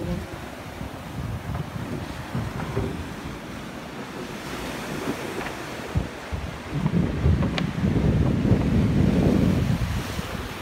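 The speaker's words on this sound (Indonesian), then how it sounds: "suara-suara angin itu benar-benar angin" Wind roars steadily across the microphone on a boat at sea off Manado, heading toward Bunaken, mixed with the wash of waves and surf that swells louder near the end.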